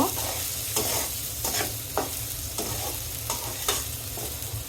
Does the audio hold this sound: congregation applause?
no